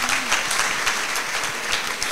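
Audience applause greets a contestant walking on at a Miss Level Up 2023 pageant competition, a steady dense clapping held at an even level throughout, close and full with no voices over it.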